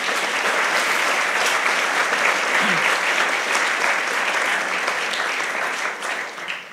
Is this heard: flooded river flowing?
no